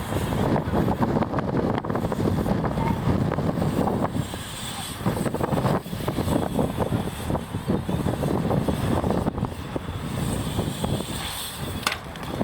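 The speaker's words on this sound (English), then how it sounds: "I'm sorry if all you can hear is wind. It's coming from behind me." Steady, loud wind buffeting a microphone outdoors, a continuous rumbling roar with gusty swells throughout and no clear voices.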